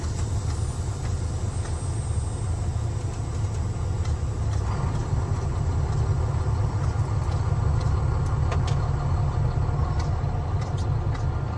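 A semi truck hauling a log home strains while backing out in remote Montana wilderness, its engine droning loud and steady with a low rumbling roar as the wheels spin, with no speech over it.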